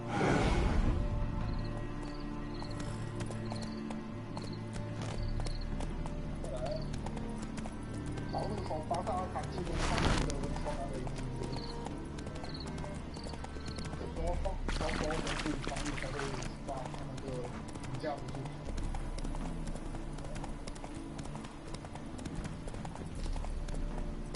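Horse hooves clip-clop steadily in The Witcher 3, a regular trotting rhythm that carries on under game dialogue and ambient sound, with an occasional neigh.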